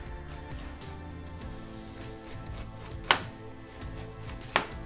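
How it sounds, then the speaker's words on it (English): A kitchen knife slices the outer skin off a pineapple, two crisp cuts landing a second and a half apart over soft background music. "Then you can thinly cut out the outer skin."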